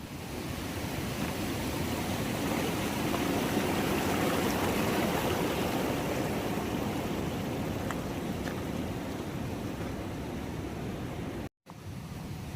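A distant waterfall at Uzbekistan's tallest falls roars as a steady, broadband rushing wash, constant and even throughout with a brief dropout near the end; no voices.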